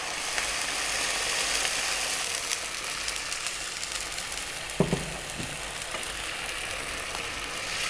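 Lemongrass-boiled stock hisses and sizzles in a hot pan over high heat for a chicken dish, a broad steady frying rush with a brief clatter midway.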